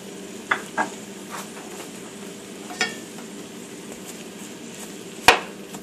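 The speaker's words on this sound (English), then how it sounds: "Now you're just going to want to saute these until they're nice and caramelized." Onions sautéing in a pan over melted fat and garlic give a soft, steady sizzle, broken by a few sharp clinks of a utensil against the pan, the loudest near the end.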